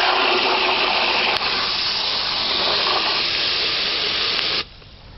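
Water pours and gushes steadily into a biogas digester loaded with organic waste, a continuous hissing rush that cuts off abruptly near the end.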